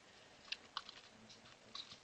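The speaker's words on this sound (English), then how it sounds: "You can verify it by typing ls space" Shell command typed on a computer keyboard: a few sparse, light key clicks at fairly close range over a faint steady background hiss, with no talking.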